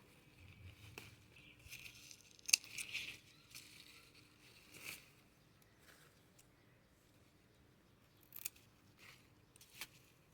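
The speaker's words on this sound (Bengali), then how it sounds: "এখানে ডালগুলো বেশি হয়ে গেছে কেটে ফেলবো" Scissors or shears snip excess plant branches in a rooftop garden, a few quiet, sparse cuts and rustles spread across the clip, faint and close with no talk.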